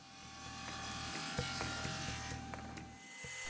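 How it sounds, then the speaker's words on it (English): A thickness sander hums steadily as a piece of spalted cherry wood feeds through, a low motor drone with faint rubbing and a few small knocks, fairly quiet and without talk. "Just running it through the thickness sander to get it to size."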